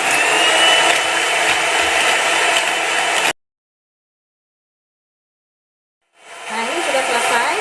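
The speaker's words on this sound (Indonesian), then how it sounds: "Kita matikan mixernya." An electric hand mixer whips egg whites to soft peaks with a steady high whirring drone, then cuts off abruptly into silence before a softer whir returns.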